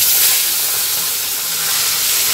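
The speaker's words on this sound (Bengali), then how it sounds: "রাতুলকে এক পিস মাছ ভেজে দিচ্ছি" Fresh fish frying in hot oil gives a steady, loud, hissing sizzle that runs unbroken through the whole stretch, with no voices.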